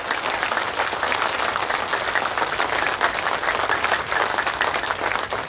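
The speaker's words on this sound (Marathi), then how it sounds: "हात वर करून जोरात जोरात जोरात टाळ्या वाजवायच्या" A large audience at an award ceremony in Pune claps loudly and continuously, a dense sustained wash of applause from many hands with no pauses.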